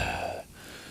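A voice imitates heavy breathing, a close, loud breathy exhale about half a second long that drops off abruptly into quiet.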